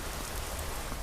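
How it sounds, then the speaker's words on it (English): Steady rain in the Skyrim video game, a dense, even hiss of falling drops with no pauses and no voices. "Oh god, now it's starting to rain."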